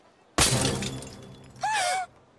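A close, loud crash of something shattering into shards, then a brief bright tinkling of pieces settling, in a cartoon setting.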